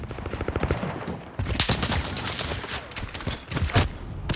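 Marksman rifle fire in a first-person shooter video game, a rapid string of sharp shots followed by further scattered cracks and distant gunfire, moderately loud.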